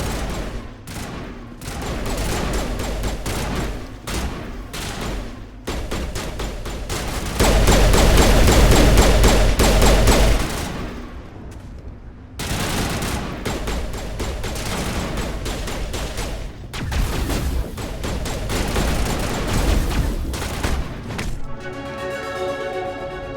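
Gunfire in a Mass Effect game, with rapid bursts of loud shots and sustained automatic fire, a heavy roaring stretch in the middle, and brief lulls between volleys.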